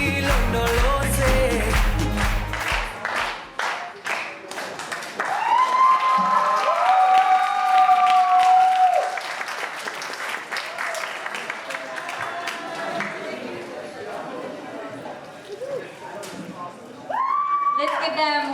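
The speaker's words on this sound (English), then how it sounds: "Let's give them one more round of applause." Applause from an audience at a school Black History Month show, with scattered clapping mixed with crowd noise and voices, while sustained whoops and cheers rise and fall over it.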